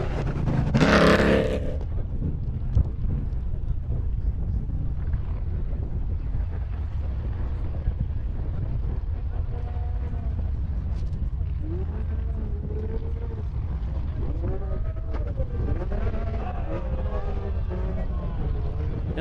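UTV off-road race vehicles run on a dirt track at Prairie City SVRA, California, with a loud roaring burst at the start, then engine drone under wind buffeting while an announcer talks over it.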